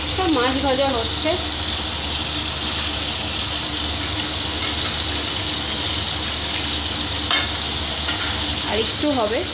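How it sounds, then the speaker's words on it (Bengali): Fish frying in a hot pan on the stove, a loud steady sizzle with bursts of hissing and occasional clinks, close and continuous throughout. "মাছ ভাজা হচ্ছে।"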